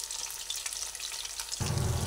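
Pieces of vetki fish frying in hot oil until reddish, giving a steady soft sizzle that swells louder and denser near the end.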